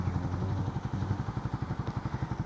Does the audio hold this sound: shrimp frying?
no